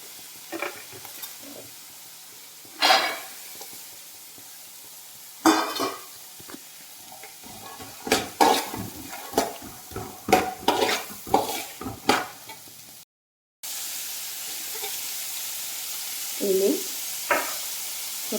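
Carrot, ginger and green chili sautéing in a pan for semiya rava upma, with repeated scraping stirs and clinks against the pan over a soft sizzle, close and moderately loud, briefly cutting out before the frying resumes.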